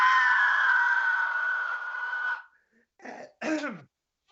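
A human voice imitates a blood-curdling scream, holding a loud, shrill, sustained shriek for over two seconds before trailing off into a couple of short, strained, rasping cries.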